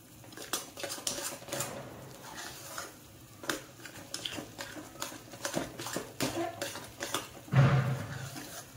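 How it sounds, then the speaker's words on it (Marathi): A spoon scrapes and clinks steadily against a thick-bottomed pot while moong dal sheera is stirred in ghee, with soft sizzling underneath and irregular metallic knocks throughout. "सतत हलवत राहायचे सारखं, नाहीतर लागण्याची शक्यता असते खाली."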